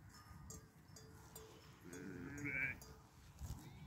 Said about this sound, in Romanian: Astăzi am scos oile cu miei la iarbă.